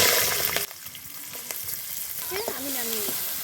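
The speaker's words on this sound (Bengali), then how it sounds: "কড়াইশুঁটিগুলো ভেজে নেব।" Green peas sizzle in mustard oil in a wok, a bright, loud frying hiss broken by stirring scrapes and small spatters.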